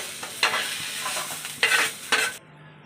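Masala spices being dry-roasted in a pan, heard as a steady sizzle and scraping with a few sharp stirring scrapes, close and alone, ending abruptly in a quiet hum.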